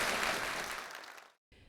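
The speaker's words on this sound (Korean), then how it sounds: "제가 당부드리는데 여러분 호응의 박수 한번 해주시기 바랍니다." Applause from the assembled officials at a justice minister's inauguration ceremony, a dense wash of many hands that fades out and cuts off, with a brief return at the end.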